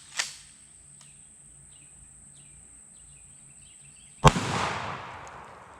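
A shotgun fires test shots in a home-defense ammunition penetration test through walls, with a sharp, faint shot at the start and a much louder blast near the end that leaves a long ringing decay.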